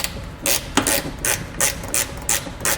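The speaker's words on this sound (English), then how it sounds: "We're going to take our T25 Torx bit and we're going to pull that bolt out." A ratchet turning a T25 Torx bit to back out a bolt inside the wheel well of a 2019 Chevrolet Sonic, with seven or eight quick, close, evenly spaced clicking strokes.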